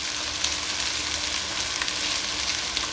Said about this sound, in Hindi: 4 से 5 मिनट हो गए मुझे इसको फ्राई करते हुए।